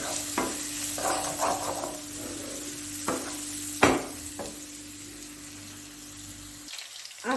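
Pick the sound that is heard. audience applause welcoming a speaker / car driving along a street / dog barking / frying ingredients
frying ingredients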